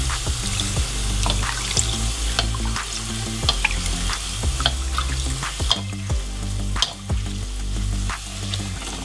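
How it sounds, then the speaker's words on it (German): Poori puffs in hot oil, bubbling with a loud, close, continuous sizzle as a large spoon repeatedly ladles the hot oil over the bread, producing splashy clinks and surges throughout. "Mein Schaumlöffel greift das Öl nicht besonders gut, daher helfe ich mit einem großen Löffel nach und gebe das heiße Öl direkt über den Pudi."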